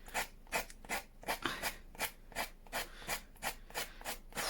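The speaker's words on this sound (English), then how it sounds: "I've seen people do it, how they've just sandpapered the edges off" Sandpaper rubs along the edges of handmade paper ephemera pouches, a soft rasping stroke repeated in an even back-and-forth rhythm about three times a second, close and quiet, with no talk.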